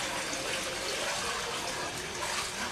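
Pottery glaze liquid poured through a sieve into a wide wok, a steady close pouring and splashing wash of water that runs on without a break.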